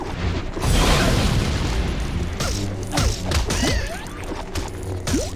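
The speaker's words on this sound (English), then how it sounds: "I'm just shooting everybody up in here." Blaster fire and crashing impacts from enemies being shot in Lego Star Wars: The Complete Saga, a loud boom up front followed by scattered thuds, whacks and zapping shots over steady background game noise.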